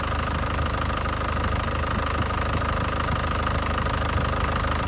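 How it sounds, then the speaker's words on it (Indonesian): A warm 2011 Panther Grand Touring diesel engine idles steadily with a constant knocking rumble, loud and close, running alone throughout without any talk. "Ini kondisi mesin panas."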